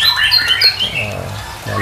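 A female white-rumped shama (murai batu) gives short, bright squawking calls close by, repeated over a couple of seconds.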